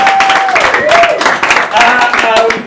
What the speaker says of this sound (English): Give another round of applause to your improvisers